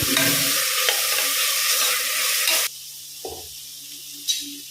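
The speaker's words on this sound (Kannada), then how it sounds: "ಇಲ್ಲಿ ಈರುಳ್ಳಿ ಸಾಧಾರಣ ಫ್ರೈ ಆಗಿದೆ ಈಗ ಒಂದು ಸ್ಪೂನ್ ಅಷ್ಟು ಶುಂಠಿ ಬೆಳ್ಳುಳ್ಳಿ ಪೇಸ್ಟ್" Onions and ginger garlic paste frying in a pressure cooker for chicken, giving a loud, close sizzle with stirring for a few seconds that suddenly drops to a quiet hiss with a couple of faint scrapes.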